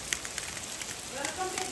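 Rain begins falling outdoors as a faint, soft patter of scattered drops, quiet and continuous over a brief stretch.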